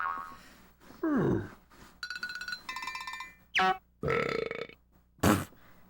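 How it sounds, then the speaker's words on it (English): A loud, comic belch plays in Donkey Kong 64, surrounded by bright chiming and boing-like game sound effects and a few sliding tones, all in quick succession with no talk. "belching's always funny"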